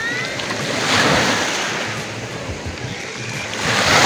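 Sea waves wash and crash steadily at a beach breakwater in Sochi, a continuous rushing surf mixed with wind noise and no talking.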